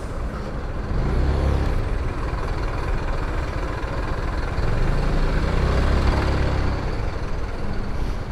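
A Zontes 350E maxi scooter engine droning steadily while riding at dusk, with loud low rumble and wind noise that swell and ease slightly as the ride goes on, and no voices.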